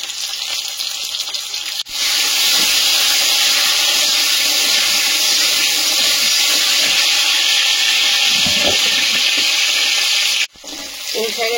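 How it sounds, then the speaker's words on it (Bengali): Black cumin and raw potatoes frying in hot oil, giving a loud, dense, steady hiss close up that cuts off abruptly near the end. "কালো জিরে, কাঁচা আলুগুলো আগে ভেজে নেবো"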